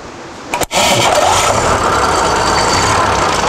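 A tractor's 6-cylinder Perkins diesel cranks briefly, catches after a short pause, and settles into a loud, steady close-up running rumble.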